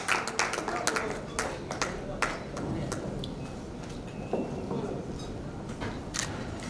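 Applause from the audience at a Hindi-language award ceremony honouring doctors, a dense patter of claps with sharp individual hits rising and falling, mixed with crowd murmur and voices throughout.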